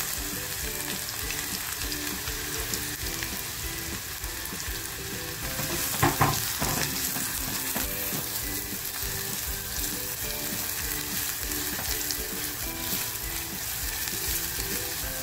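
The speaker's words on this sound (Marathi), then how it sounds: "बघा आपलं तेल खूप छान तापलेलं आहे, तर जो बारीक कापून घेतलेला आहे कांदा, तो कांदा टाकते अगोदर।" Finely chopped onion fries in hot oil in a kadhai, a loud steady sizzle with a brief burst of clattering stirs near the middle.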